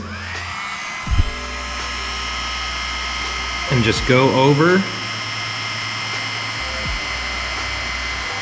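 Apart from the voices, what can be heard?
heat gun blowing hot air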